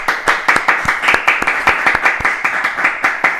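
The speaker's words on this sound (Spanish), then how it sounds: "vamos a recibir con los aplausos correspondientes al querido Jorge" Audience applause welcoming a guest onto a television talk-show set, heard as a run of loud, close, sharp hand claps at a steady, fairly sparse rhythm with no talk over it.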